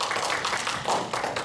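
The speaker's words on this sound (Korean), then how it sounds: "격려의 박수 부탁드립니다." Brief burst of audience applause at a public broadcast, a dense patter of claps at close-to-mid distance, steady and moderately loud with no voices over it.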